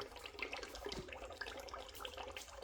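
Water draining from the engine of a Pontiac LeMans with a 400, a steady trickling and splashing flow heard close by, with faint clatters and no talking.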